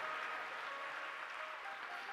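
An audience claps at a Hindu religious discourse on the story of Lord Shiva during Shivratri, giving sustained, even applause from a large crowd, soft and somewhat distant, with no talking over it.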